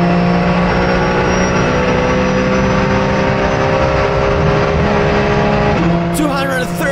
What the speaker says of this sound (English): here, the Porsche engine singing on the straight